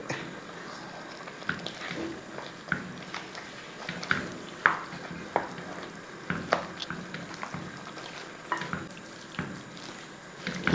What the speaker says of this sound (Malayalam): കപ്പ ഇതിൻ്റെ അകത്ത് ഈ എല്ലുമായിട്ട് നല്ലപോലെ ഒന്ന് മിക്സ് ചെയ്തെടുക്കണം